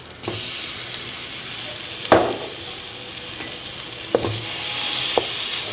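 Chopped carrots frying in hot oil, a continuous close hiss with several sharp clinks and scrapes as the pan is stirred, the sizzle swelling slightly toward the end; no speech.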